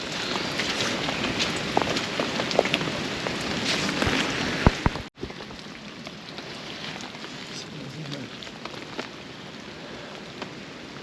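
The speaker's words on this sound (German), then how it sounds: "Der gesamte Tag dreht sich so ein bisschen um den Regen." Steady rain falls on wet outdoor ground in a storm, a dense continuous patter with a few sharper drops, then after a brief cutout it continues a little softer.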